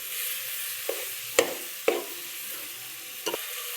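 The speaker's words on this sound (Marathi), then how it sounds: "बघू शकता तर मटण टाकत आहे." Pieces of mutton sizzle in a hot pan while a utensil scrapes and stirs, with a few sharp knocks against the pan over a steady frying hiss and no talking.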